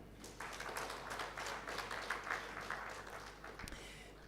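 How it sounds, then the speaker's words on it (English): A programme audience gives a big round of hand clapping, a faint, fairly quiet patter of many hands with distinct claps and a single sharp tap near the end, no talk over it. "But first, get a very big hand clap."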